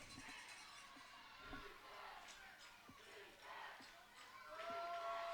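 Youth football crowd at a kindergarten–first grade league championship game in a stadium, a mass of voices chanting and shouting together in a steady roar, with a whistle-like tone near the end.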